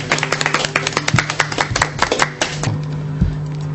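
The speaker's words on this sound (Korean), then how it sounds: "우리 모두 수고하는 우리 박수관에 박수를 좀 쳐주시죠" A small group in a prosecutors' office claps for a colleague, with sharp, close, uneven claps over a low steady hum and no talking.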